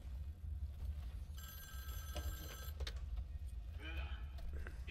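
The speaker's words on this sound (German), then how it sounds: "Telefon." A telephone rings in the video game Wolfenstein: The New Order, a single bright ringing burst over a low rumbling game background, followed by faint clicks.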